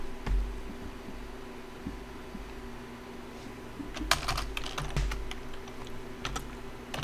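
Typing on a computer keyboard during a network lab setup: quiet, irregular key clicks over a steady hum, sparse at first and then a denser burst of rapid taps, close and alone without talk.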